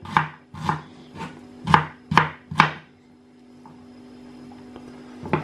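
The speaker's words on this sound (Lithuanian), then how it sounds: "Svogūną pjaustau tokį nedidelį." A knife chops an onion into small pieces on a board in a home kitchen: six quick, close thuds in a loose rhythm, a pause, then one more cut, with a faint hum underneath.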